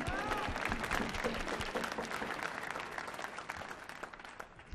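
An audience at a live concert applauds after a piece, steady dense clapping close by that thins slightly toward the end.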